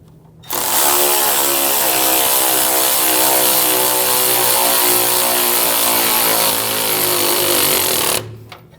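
On a 2011-2018 Ram 1500 with a 3.6L V6, a power tool runs the strut's upper nut tight in one loud, continuous buzzing whir of about eight seconds, starting and stopping abruptly.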